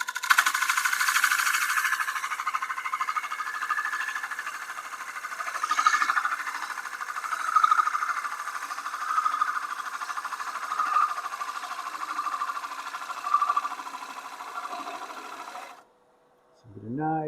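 A wood lathe turns a box elder blank while a gouge rides the bevel in a smooth pass, giving a steady, continuous scraping hiss with slight swells throughout, ending abruptly near the close.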